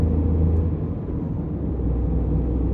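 A Tata Tiago iCNG AMT hatchback's engine drones as a low, steady in-cabin rumble while driving, the pitch easing slightly as the automated manual shifts up around 3000 RPM.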